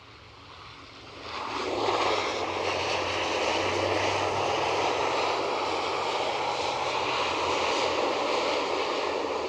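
ATR turboprop airliner on a calm approach to an airport, rising from a quiet background into a steady propeller and engine hum that holds near and moderately loud to the end.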